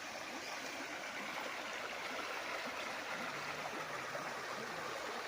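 A river flows along the lower boundary of a sloping farm property in Nagcarlan, Laguna, a steady, dense rush of running water holding at an even level throughout, with no talk over it.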